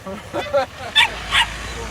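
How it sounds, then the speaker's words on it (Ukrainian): A small dog gives a few quick high yips and barks outdoors in a Ukrainian village, mixed with people talking nearby. "А це чий песик?"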